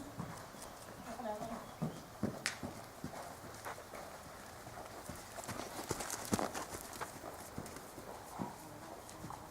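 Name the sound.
horse trotting, hooves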